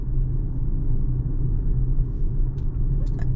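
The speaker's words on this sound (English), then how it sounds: "you will hear that, you know, little bit of tire noise in every car" Low steady tire roar heard inside a 2024 Mercedes-Benz EQB 350 4MATIC electric car while driving, a continuous muffled rumble with a couple of faint clicks near the end.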